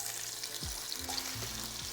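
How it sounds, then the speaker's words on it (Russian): Soft, steady sizzling and crackling of potatoes frying in oil in a pan, with a few faint scraping stirs underneath. "туда уже кладем картоху и жарим ее."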